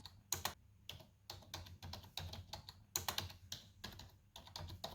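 Typing on a Logitech wireless keyboard, close and clear: quick bursts of crisp key clicks in uneven clusters with brief pauses between, no voices.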